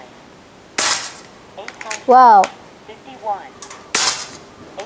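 Two sharp gunshots fired at a metal silhouette target ring out a few seconds apart, loud and close, with a brief voice exclaiming between them.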